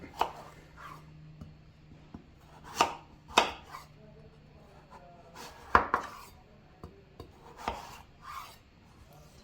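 Kitchen knife cutting pumpkin into strips on a board, a series of sharp irregular chops and scrapes, close and fairly quiet, with faint rubbing between strokes and no talk.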